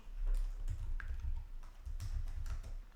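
Typing on a computer keyboard while entering a password, with a steady run of close, light key taps and a few louder strikes over a low background hum.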